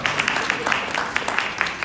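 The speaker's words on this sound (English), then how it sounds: "You can clap." Audience at a university alumni reception applauding, dense rapid clapping from many hands at moderate distance with a voice briefly over it.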